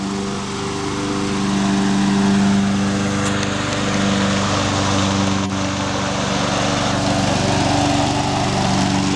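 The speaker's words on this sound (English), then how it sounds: "Lift the mower up." A small riding lawn tractor mower runs steadily close by, its engine giving a continuous droning hum with a slight rise in load midway, with no talk over it.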